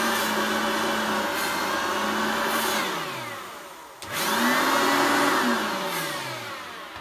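A Hoover Turbopower 1 two-speed vacuum cleaner runs roughly and unevenly, its motor whine swelling loud, sagging as it winds down, then surging back up before fading again.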